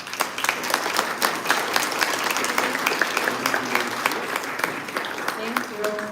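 A graduation ceremony audience applauds after a speech, dense steady clapping filling the hall at moderate distance, with a voice speaking briefly near the end.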